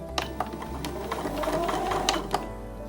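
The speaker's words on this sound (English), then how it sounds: "now I'm going to cross over the centre of the block and I'm going to stop sewing when I hit the next line." Sewing machine stitching across a quilt block, producing a close, steady mechanical whirr with rapid needle clicks, running continuously without talk.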